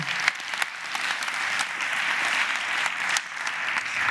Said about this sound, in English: join us on stage for this big round of applause